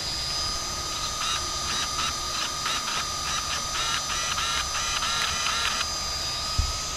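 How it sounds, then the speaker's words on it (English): The steering servo on an Arrma Outcast 8S RC car whirs in quick repeated bursts over a steady electronic hum, close by and moderately loud, with no talking. "And my servo is working."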